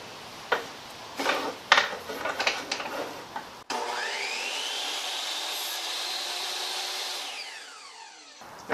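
A wooden dowel is cut off: a few knocks and handling sounds, then a power saw motor rises into a steady close whine for about five seconds before spinning down.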